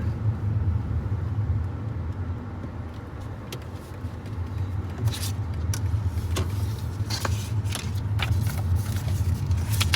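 A car rolls slowly onto a cruise ferry in Finland. A low, steady engine rumble continues throughout, with scattered clanks and knocks from the ramp and deck.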